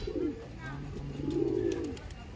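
Soft, low coos from a white pigeon at a house, two drawn-out throaty phrases heard up close, with brief human voice sounds around them.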